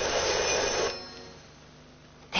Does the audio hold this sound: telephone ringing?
yes